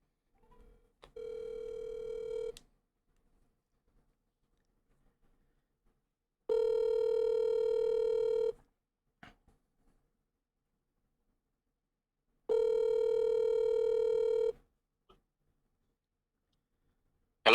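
A telephone line tone sounds in three steady two-second bursts separated by long silent gaps, clean and prominent with no talking.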